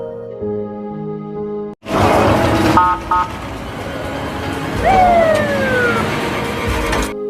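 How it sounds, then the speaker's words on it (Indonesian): A sheriff's car siren in a film wails loudly in rising and falling sweeps after a sudden break, preceded by tonal music and overlapping other film sounds. "Sirine mobil sheriff pun terdengar."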